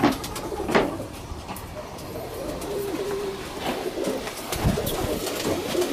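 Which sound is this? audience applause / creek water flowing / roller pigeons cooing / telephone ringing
roller pigeons cooing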